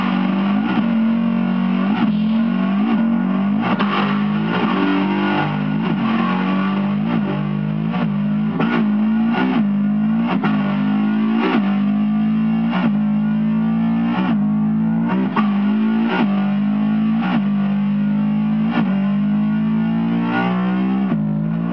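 Heavily distorted electric guitar in drop D tuning, pushed through effects to mimic a revving car engine, with a steady low growl broken by rhythmic surging accents for the whole stretch, loud and close with no voices.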